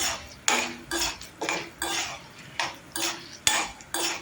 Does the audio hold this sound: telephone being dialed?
no